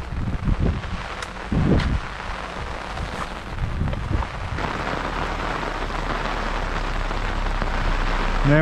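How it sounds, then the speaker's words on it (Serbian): Rain falls steadily at a fishing competition at Krajišnik, a broad hiss of drops on surfaces with a few louder nearby knocks and some wind buffeting the microphone. "Ne može u Krajišniku bez kiše."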